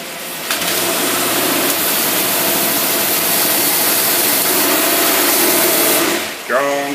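A car engine fitted with a Holley 2-barrel carburetor idles steadily and loudly for several seconds, then drops off near the end.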